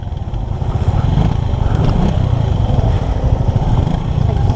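A group of seven motorcycles sets off together on a road trip to Barangay Diampak, with engines rumbling loudly and continuously close by.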